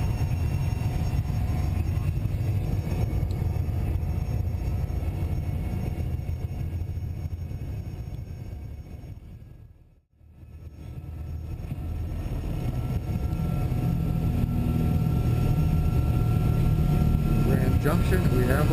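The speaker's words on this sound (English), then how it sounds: "We are taking off now." A small plane taking off from Grand Junction, its loud engine roar dropping to near silence midway before building again into a steady drone, heard from inside the aircraft.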